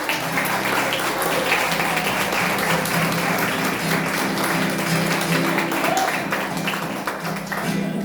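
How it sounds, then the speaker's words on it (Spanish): A congregation in church claps steadily and loudly for the whole stretch, a dense continuous wash of applause without pauses. "Denle un fuerte aplauso, por favor, al Señor."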